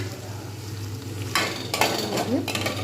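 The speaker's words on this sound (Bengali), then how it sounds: "আবার একটুখানি নেড়ে দেবো" Mashed eggplant being stirred in a pan, a soft background sizzle broken by several scraping strokes of a spatula against the metal, with light clinks near the end.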